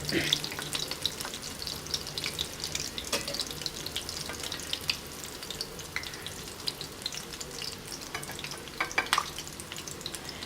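Chicken toasts, just flipped, frying in hot oil, giving a steady crackling sizzle with sporadic sharp pops throughout, close and fairly quiet.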